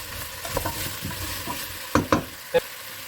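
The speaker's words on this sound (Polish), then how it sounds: "wrzucam ziemniaki. I też je lekko podsmażam." Potatoes lightly frying with carrot and onion in a pot, a soft continuous sizzle punctuated by several brief stirring knocks and scrapes, the loudest clustered in the second half, with no talking.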